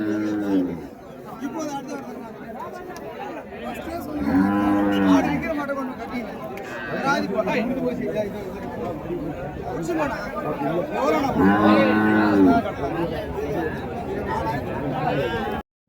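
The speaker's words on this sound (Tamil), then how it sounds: "இங்கேயும் பார்த்தீங்கன்னா வண்டி காளைங்க." Cart bullocks low at the Uthangarai cattle market, two drawn-out moos rising clearly at middle distance over a steady hubbub of people talking among the livestock.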